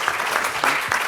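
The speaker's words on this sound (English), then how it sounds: "Let's give Sarah a round of applause for that" Studio audience applauding a contestant after an opening bid in a food-themed auction game show, a short burst of clapping with uneven swells, fairly close and alone without talk.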